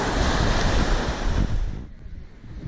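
Surf of the Arabian Sea washing ashore, a broad steady roar of breaking waves with wind buffeting the microphone, easing off toward the end.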